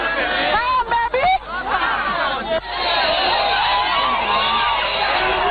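A protest crowd chatters and cheers, with loud, continuous babble and scattered shouts and whoops, some voices rising above the mass of talk.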